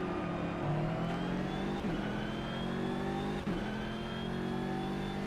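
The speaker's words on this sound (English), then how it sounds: "engine starting to rev" A GT3 race car engine revs steadily in a racing game during a two-hour Suzuka endurance race, its rising harmonic whine sustained and loud throughout with brief dips at gear shifts and no speech.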